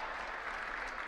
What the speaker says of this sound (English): Dan asking for an extra round of applause as the best point of the match so far